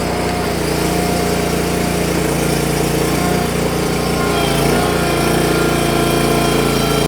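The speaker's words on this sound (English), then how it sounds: "Let's idle it up a little bit." A yard machine loader's small engine runs steadily at a loud idle close by, with constant mechanical vibration throughout and no talking.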